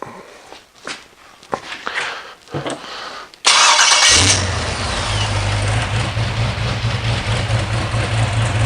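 A 2006 Pontiac GTO with an E40 engine controller is cranked and fires up, a loud close start that settles into a steady, rumbling idle after a few faint footsteps and handling sounds.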